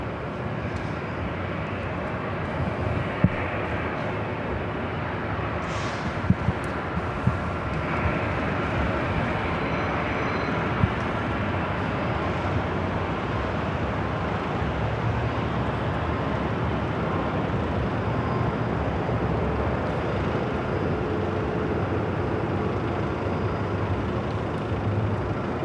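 Delta airliners lining up for runway 24 Left at LAX, heard from a parking garage: a steady, broad jet roar holds throughout at a moderate distance, with a few faint clicks on top and no talk.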